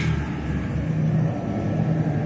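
A Dodge Dakota R/T engine fitted with modified 1 3/4 inch long tube headers runs on a dyno, giving a close, steady low rumble with a faint tonal hum and no clear revving.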